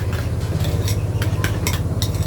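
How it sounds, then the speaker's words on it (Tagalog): A cucumber apple salad seasoned with pepper is mixed in a bowl with a utensil, giving light scraping and scattered bright clinks over a low, steady background hum. "Tapos, haluin natin."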